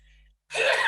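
One sharp, breathy sneeze bursts out close and loud after a brief near-silence, with no talk around it.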